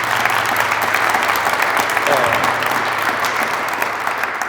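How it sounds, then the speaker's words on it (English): An audience at a Black History Month talk applauds an honoree, producing a steady, dense wash of clapping that holds at an even level throughout without dying away. "Give her a round of applause."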